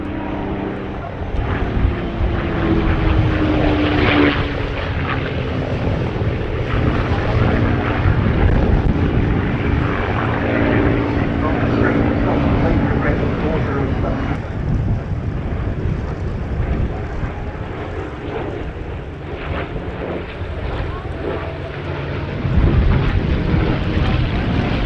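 North American P-51 Mustang fighters fly at the Duxford Battle of Britain airshow, a sustained piston-engine drone rising and fading as the aircraft pass, heard through steady wind buffeting on the microphone with faint crowd sounds.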